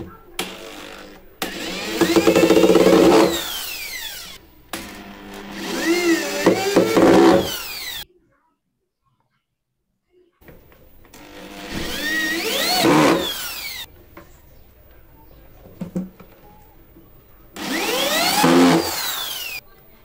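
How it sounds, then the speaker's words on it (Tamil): A power driver whines in several loud bursts with short pauses, tightening eight screws into a wooden box for a Pioneer 12-inch subwoofer, a 4th-order enclosure. The pitch rises and falls with each screw. "8 ஸ்க்ரூவுமே பக்காவாக டைட் பண்ணிடலாம்."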